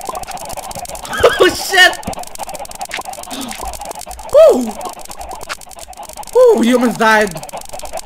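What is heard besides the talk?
chickens clucking in a video game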